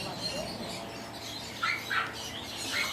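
Pet birds chirp in a home garden, several short bright calls scattered over a steady background hum, moderately near and without talk.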